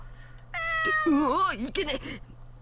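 Cat meowing in the horror video game Corpse Party: Book of Shadows, a pair of drawn-out, pitch-bending meows close up, the second one rougher, over a low steady hum.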